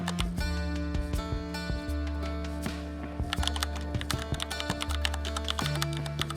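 Rapid keystrokes clatter on a laptop keyboard during a search, steady close clicking throughout with brief pauses and a low hum underneath.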